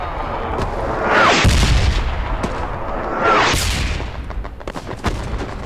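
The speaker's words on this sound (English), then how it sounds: "Watch out for that artillery, though." Artillery fire in the World War II shooter Hell Let Loose in Hurtgen Forest, two heavy booming blasts about two seconds apart, loud and rolling, with scattered distant gunshots between them.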